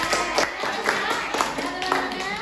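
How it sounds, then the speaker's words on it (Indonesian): Clapping from a small group in a counselor training workshop session, a fairly steady patter of hands with a few sharper accents, moderately loud and close, with faint voices mixed in. "Oke, tepuk tangan."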